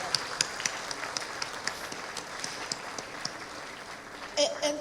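Audience applause at an international nuclear science olympiad awards ceremony, a steady moderate patter of many hands clapping in a hall, fairly even throughout with a slight swell at the end.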